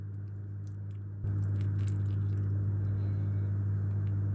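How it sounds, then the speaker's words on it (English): Someone eats khachapuri, tearing off a piece of the cheese-filled bread crust and scooping up the filling, giving close, soft chewing and squishy bites over a steady low hum, with no talking. "The only correct way to eat it is to tear off the side, use it as a spoon, and shovel everything straight into your mouth."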